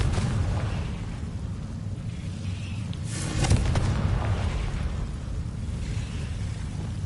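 The Confringo blasting spell in Hogwarts Legacy bursts with a deep, rumbling explosion that peaks sharply midway over a constant heavy low roar.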